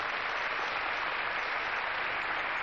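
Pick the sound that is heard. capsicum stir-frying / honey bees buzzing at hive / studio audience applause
studio audience applause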